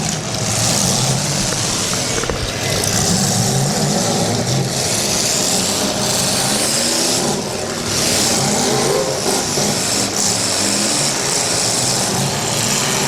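Several demolition derby cars in the large car event at a Portage County night derby, engines running and revving continuously, a loud dense roar that rises and falls without pause.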